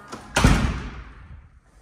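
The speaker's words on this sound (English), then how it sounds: "When you open up the door," An apartment door is pushed open with a sharp click and a heavy swinging thud that fades into the room's quiet echo.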